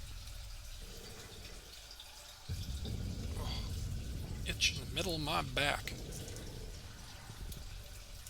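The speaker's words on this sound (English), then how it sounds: "apologies for the water sounds. That's just my aquarium." Water runs and trickles steadily through the plumbing of a home aquarium, a constant low wash of sound beneath a person speaking nearby.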